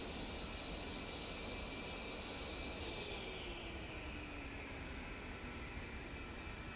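Twin engines of an A-10C Warthog idle steadily on the ground in the DCS flight simulator, a continuous faint jet whine and hiss with a slowly falling tone partway through, no voices.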